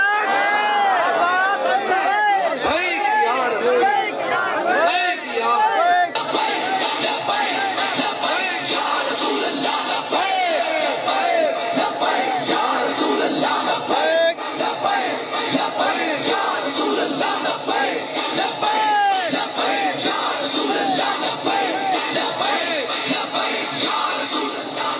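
A large crowd at a religious gathering chants slogans in loud, sustained unison responses, with a voice leading over the amplified roar of many people and echoing calls continuing throughout.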